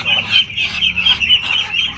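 Muscovy ducks in a pen on a duck farm, a loud close chorus of raspy hissing and calling that comes in repeated overlapping bursts.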